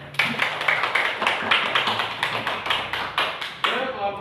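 A classroom of students clapping hands together, a dense burst of quick sharp claps that continues for several seconds, near and fairly loud, with a voice faintly audible among them.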